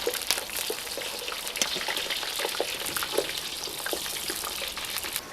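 Potatoes hit hot fat in a kazan, giving a steady, close frying sizzle with crackling pops and spatters throughout, no voices.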